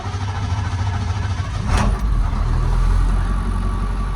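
A school bus engine idles after starting, a loud steady low rumble close by with a brief hiss midway and faint talk beneath.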